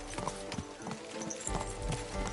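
A horse in Kingdom Come Deliverance 2 trots with quick, steady clip-clopping hooves, close and continuous over a low ambient bed, with no talking.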